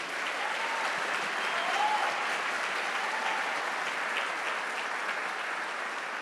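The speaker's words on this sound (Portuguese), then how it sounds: "Você pode aplaudir a Jesus?" A church congregation at a conference session applauds Jesus with a broad, sustained wash of clapping that stays loud and even throughout, with a faint voice or cheer within it.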